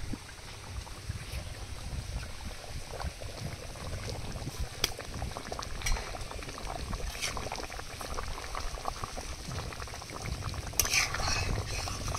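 Fish curry with sugar added is stirred as it simmers in a pan, giving a steady low bubbling and scraping texture throughout, with occasional clinks of the spoon against the pot.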